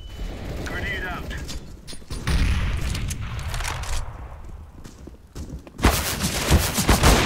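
A grenade blast and gunfire in Counter-Strike: Global Offensive: rumbling game noise and scattered shots build to a loud, sharp burst of explosion and firing near the end, with voices talking over it.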